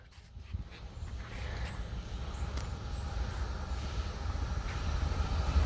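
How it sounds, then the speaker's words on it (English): A BNSF freight train approaching at Bayfront Park, a low rumbling roar building steadily in loudness as it nears, with faint rattling above the deep rumble. "We got ourselves a BNSF coming. Yep, here it comes!"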